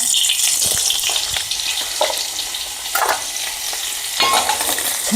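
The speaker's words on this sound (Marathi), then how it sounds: "यामध्ये मी थोडंसं बटर टाकणार आहे" Butter melting in a hot pan, giving a steady bright sizzle with soft crackles and occasional stirring scrapes, close and continuous throughout.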